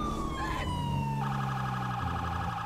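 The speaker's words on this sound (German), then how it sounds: "Boah, die Sirene klingt nice." Police car siren in GTA 5, a loud, close wail sweeping down in pitch, then switching to a faster yelping pattern, continuous with engine hum underneath and no talking.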